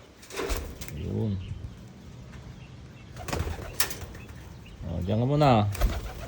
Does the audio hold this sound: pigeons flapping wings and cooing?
yes